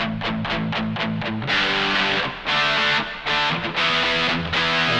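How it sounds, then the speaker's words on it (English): Electric guitar played through a Mad Professor One high-gain distortion pedal, thick saturated chords struck in a driving rhythm with sustained crunchy tones, loud and alone with no talking. "A great classic distorted guitar sound"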